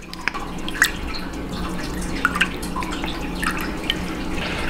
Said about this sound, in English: We are going to go with 3 tablespoons here of the rice wine vinegar.